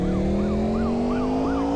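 A police car siren wails in a repeating rising and falling cycle as it chases a car in a video game, loud and close over a steady engine drone.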